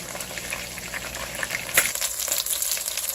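Chicken thighs fry in oil in a pan with a dense, steady crackling sizzle close up. A sharper pop stands out partway through, and the sizzle continues with bubbling texture.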